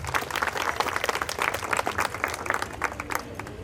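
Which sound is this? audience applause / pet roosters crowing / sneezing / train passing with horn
audience applause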